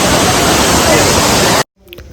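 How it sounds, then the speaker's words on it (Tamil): A forceful waterfall roars as water rushes down, a loud dense broadband wash filling the scene, before it cuts off abruptly near the end into quieter, faint sounds. "ரொம்ப வந்து தண்ணி ஃபோர்ஸாக வந்துட்டு இருக்கு"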